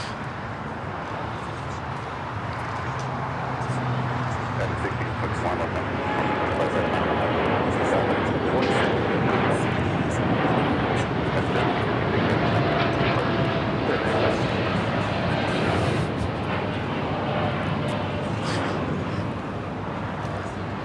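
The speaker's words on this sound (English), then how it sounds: "United Airlines 1756 taking off to Newark on the 787-10 Dreamliner." A United Airlines Boeing 787-10 Dreamliner, flight 1756 to Newark, takes off at LAX with a broad jet roar that swells and stays steady, moderately loud, while voices talk over it.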